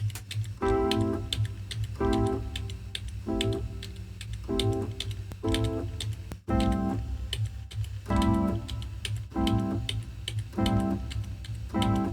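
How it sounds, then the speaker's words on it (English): Keys tapped on a MIDI keyboard in Ableton set a drum-like rhythm of short, repeated notes in regular groups over a steady low backing, with a brief break midway before the pattern resumes. "tapping out almost like a drum rhythm with the right cursor and then hitting the keys on your MIDI keyboard"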